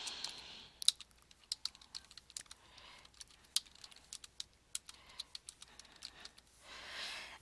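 Typing on a computer keyboard, a quick irregular run of close, crisp key clicks with short pauses, fairly quiet and heard alone without talk.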